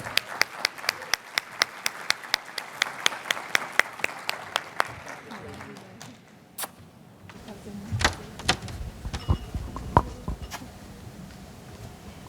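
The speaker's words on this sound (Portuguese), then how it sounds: "Convido todos a darem uma calorosa salva de palmas para elas" Sharp, evenly spaced claps ring out at a registry officers' conference in Brazil, then thin into scattered, irregular claps and shuffling noises, with a voice talking in the room.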